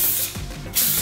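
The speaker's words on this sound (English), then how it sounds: "then just spray the ends" A can of hairspray hisses in two short bursts as it is misted onto the ends of curled hair, close and clear with a brief pause between the sprays.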